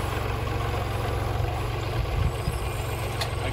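A Kubota L3901 tractor engine idles while backing up, making a steady, close, low diesel rumble that holds an even level from start to finish with no talking.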